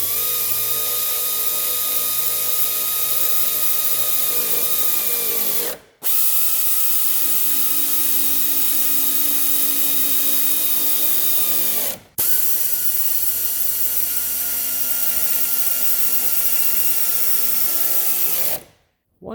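A power tool runs up strut bolts on a 2012 Subaru Impreza during front strut replacement, giving three long, steady whirring bursts of about six seconds each, broken by brief stops, loud and close.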